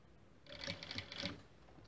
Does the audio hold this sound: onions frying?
no